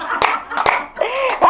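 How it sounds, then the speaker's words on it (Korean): Hands clap three times, each a sharp, close clap. The claps are spaced in a quick sequence, and voices are heard between them during a laughter exercise session. "박수 세 번."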